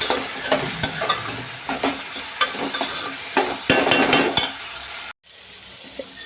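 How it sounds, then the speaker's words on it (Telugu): Onion paste frying in a pan as it is stirred, a dense crackling sizzle with repeated scraping strokes that stops abruptly near the end, leaving a quieter background. "ఈ ఆనియన్ పేస్ట్ వేసేద్దాం మనం చేసుకున్నాం కదా పేస్ట్ అనేది ఆ పేస్ట్ అనేది వేసేద్దాం ఇందులో మొత్తం కలిసి బాగా ఫ్రై అవుతుంది"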